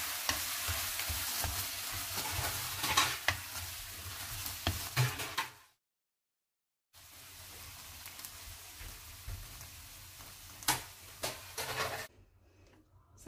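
Squid stir-fried with herbs and onion in a hot pan crackles and sizzles in uneven bursts, with scraping stirs. It drops to silence briefly midway, then resumes before fading quieter near the end.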